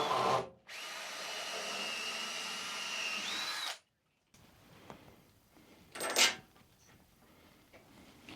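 A power drill drives coach screws into a bandsaw stand frame, whining steadily for about three seconds and then stopping, followed by quieter clunks and a short burst of handling noise.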